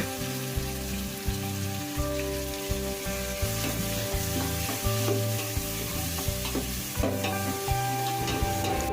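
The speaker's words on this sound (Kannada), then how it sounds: "ನೋಡಿ ಟೊಮೆಟೊನು ಚೆನ್ನಾಗಿ ಫ್ರೈ ಆಗಿದೆ" Tomatoes fry in a pan for bisi bele bath, a dense steady sizzle with regular soft taps of stirring, close and loud enough to fill the scene, over a constant low tonal hum and with no speech.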